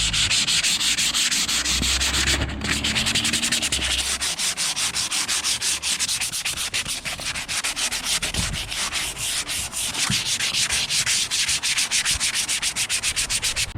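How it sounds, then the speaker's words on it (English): Sanding on a project boat's hull being readied for paint, a continuous loud rasping scrub with steady rhythmic strokes close by, no talking. "we've just finished sanding for the day"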